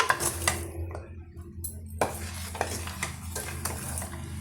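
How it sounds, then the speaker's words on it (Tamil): A spoon stirs a thick sweet mixture of milk powder in a pan for burfi, giving a steady low hum with scattered scraping clicks and a sharper clink of metal on metal. "சேர்த்துட்டு நல்லா வந்து கலந்து விட்டுக்குங்க"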